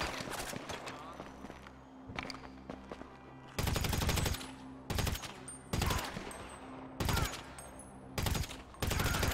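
Gunfire in GTA V on PC story mode: bursts of rapid automatic shots come in loud clusters over a quieter background with faint footsteps, and a voice is briefly audible.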